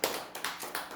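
Church congregation clapping together during a Korean sermon, a few brief bursts of hand claps spread across a second, fairly close.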